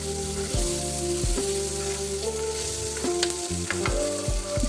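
Fish frying in hot oil in a pan for a green tomato fish curry: steady close sizzling with occasional stirring or turning knocks, continuous throughout without talk.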